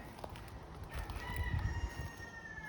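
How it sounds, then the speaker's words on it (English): A rooster crows in a garden during a summer heat spell, its drawn-out call rising over steady outdoor background noise at moderate distance, with no talking. "Ox is our rooster, and he's gonna get a crow collar on Tuesday, so poor little guy, I'm letting him sing his heart out"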